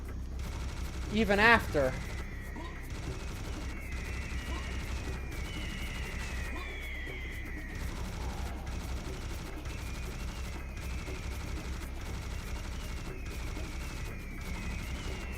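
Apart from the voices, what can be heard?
enemy gunfire in a video game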